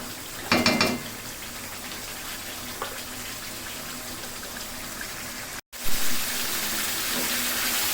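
Chicken with cashews stir-fries on high flame in a pot, giving a continuous hissing sizzle broken by a few sharp clatters of stirring and a brief cut near the end.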